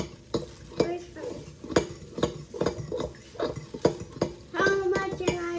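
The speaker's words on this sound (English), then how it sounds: "How much am I stirring?" A utensil stirring chicken in a pot, scraping and knocking against the metal in a steady rhythm of about two strokes per second, close and moderately loud, with faint sizzling and brief voices.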